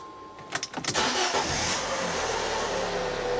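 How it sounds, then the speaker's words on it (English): A 2009 Fiat 500C with a 1.2 petrol engine cranks briefly, catches and fires up, then settles into a steady, close idle that runs on evenly to the end. "start it up, let it tick over, make sure the oil pressure light goes out"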